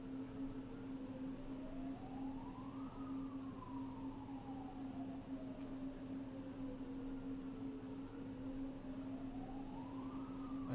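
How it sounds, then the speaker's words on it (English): A wailing siren rises and falls in long slow sweeps over a steady low hum, sounding some distance away. "I just hear sirens."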